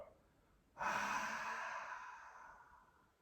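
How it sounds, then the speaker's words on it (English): A single long exhale through an open mouth during a yoga practice, starting abruptly with a breathy rush and slowly fading over a few seconds, close and quiet. "with the mouth open, exhale, let it all go"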